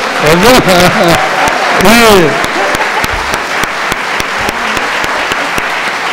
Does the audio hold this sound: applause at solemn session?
yes